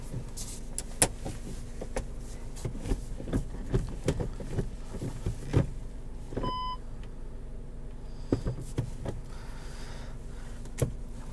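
A 2017 Volkswagen Jetta GLI with a manual gearbox, heard from inside the cabin: scattered clunks and knocks over a steady low engine rumble, with a short electronic chime partway through and no talking.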